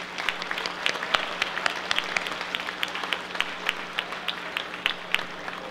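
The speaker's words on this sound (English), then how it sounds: "Let's give a big round of applause for our generous bronze sponsors" A modest audience at a sponsor-thanking event applauds bronze sponsors. A thin scattering of individual claps stands out distinctly at a moderate level for several seconds, with no talking.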